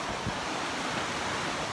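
Ocean waves breaking along a Hawaiian shore, a steady moderately loud wash of surf mixed with wind rumble on the microphone.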